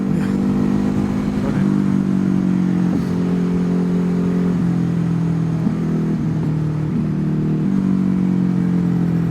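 Ducati HyperMotard motorcycle cruising in 4th gear on a road, a loud steady engine drone that swells and eases slightly as the throttle rolls on and off, heard from the rider's position with constant wind rumble.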